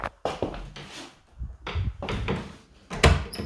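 A room door inside a house is opened and closed, giving several knocks, thumps and rattles spread over a few seconds, close and fairly quiet, with no talking.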